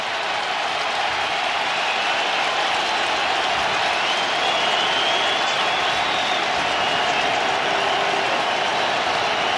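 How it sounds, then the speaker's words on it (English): Football stadium crowd at an Atlanta Falcons at New York Giants game roaring on third down, a loud continuous wall of cheering and noise that holds steady throughout, with faint announcer talk beneath. "Well, here goes the crowd."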